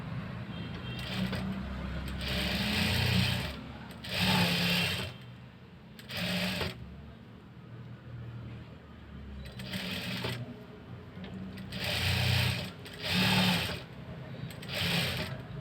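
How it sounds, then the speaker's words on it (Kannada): Sewing machine stitching piping onto a blouse neckline, repeated runs of fast mechanical whirring and clattering that stop and restart several times, close and steady, with a person talking quietly underneath. "ಇವಾಗ ಹೊಲಿಯೋದು ಸ್ಟಾರ್ಟ್ ಮಾಡೋಣ."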